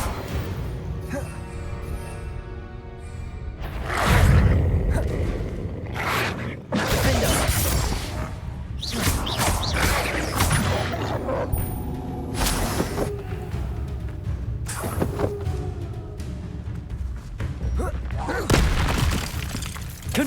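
Confringo blasting spells exploding in Hogwarts Legacy, with several heavy booms and crashing impacts spread through a busy combat mix and a voice talking over it.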